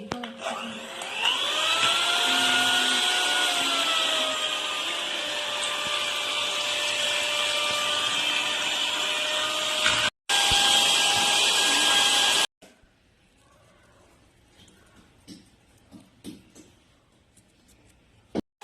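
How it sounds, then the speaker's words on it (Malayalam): An electric beater whirs in cake batter with a loud, steady motor whine that rises in pitch as it spins up, cuts out briefly, then stops, leaving quiet clinks and room noise. "ബീറ്റ് ചെയ്യാൻ വേണ്ടിയിട്ട് ബീറ്റർ ഇവിടെ റെഡി ആയിട്ടുണ്ട്"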